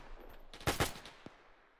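Gunfire from a US .30 cal machine gun in ARMA 3 with a WW2 mod, heard as a short cluster of two or three loud, close bursts followed by a fainter single report, with no talk.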